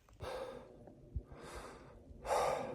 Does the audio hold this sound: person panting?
yes